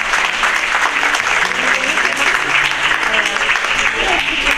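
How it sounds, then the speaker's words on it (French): Loud, continuous applause from an audience at a book fair award ceremony in a hall, steady clapping throughout with faint voices mixed in. "Vous pouvez applaudir."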